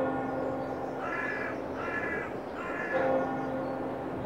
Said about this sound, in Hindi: चर्च की घंटी है।